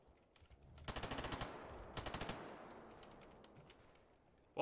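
Two short bursts of rapid automatic gunfire in the video game Stalker Gamma, each about a second long, fairly quiet and separated by a brief pause, with no talk.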